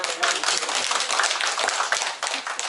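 A tour group in Daegu claps together on a visit to the birthplace of Yuk Young-soo, a dense, lively burst of many hands that stays loud and close throughout, with a slight dip near the end.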